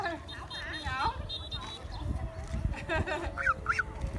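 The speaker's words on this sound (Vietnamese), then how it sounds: "Con ngỗng." Goose honking outdoors while following its owner, calls rising over a noisy background with people talking throughout.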